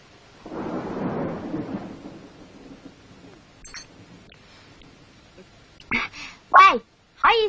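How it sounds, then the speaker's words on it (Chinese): Heavy rain with a deep, rolling thunder rumble that swells early and fades, followed by people talking in short bursts. "今日咁大雨"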